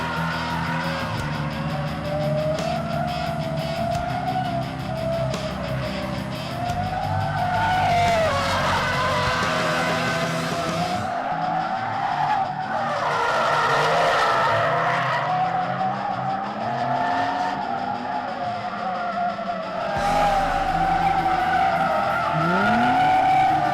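Cars drifting at a Japanese drift event with Club 4AG, tires skidding and squealing in long wavering screeches over revving engines, loud and close, surging and fading in several passes.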